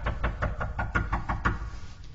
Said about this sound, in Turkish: Kapı çalınıyor.